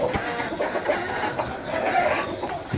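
Chickens cluck and murmur inside a chicken house on a small farm, a busy overlapping chorus of soft calls close by, with no talking.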